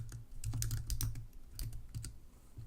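Keys clatter on a computer keyboard in a quick, close burst of typing that slows into a few scattered taps, with no voices over it.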